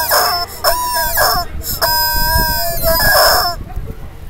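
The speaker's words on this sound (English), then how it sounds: "We're going to squeeze the chicken in the Pavillon." Squeezed rubber chicken toy screaming in loud, close, drawn-out wheezy shrieks, several squawks in a row with a short gap, under brief talk.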